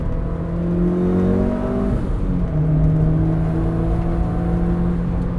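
Track-prepared Mitsubishi Evolution IX SE accelerating hard out of a corner, engine note climbing steadily through the revs, then dipping on a gear change and pulling up again, heard close from inside the car.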